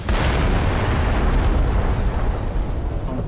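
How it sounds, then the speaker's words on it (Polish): A vehicle blows up in the Crysis multiplayer shooter game, a loud, sustained rumbling roar that fills the whole moment and fades only slightly toward the end. "nie wiem co tu się wydarzyło, czemu wybuchł pojazd"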